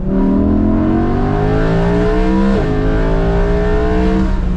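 An Audi R8 V10 Plus with a valved exhaust and no rear bumper screams loud and close, its pitch climbing steadily, dipping briefly at a gear change, then rising again.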